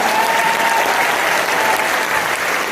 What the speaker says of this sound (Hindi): इसी बात पर तालियां बजा दीजिए आप सभी को